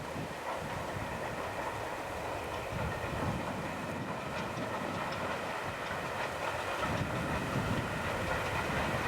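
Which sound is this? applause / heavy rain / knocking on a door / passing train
passing train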